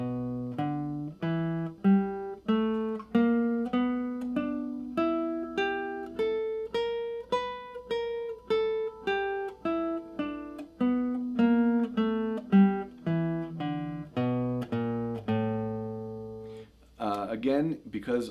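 Blues pattern on guitar played in the major method, a steady run of single plucked notes climbing and falling at a moderate even pace, clear and close with no talking over it.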